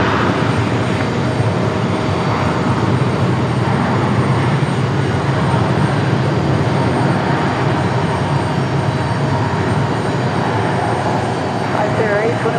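Airliner jet engines roar steadily at Raleigh Durham airport runway, a loud sustained rumble with a broad hiss that holds for the whole stretch, while faint radio chatter runs underneath.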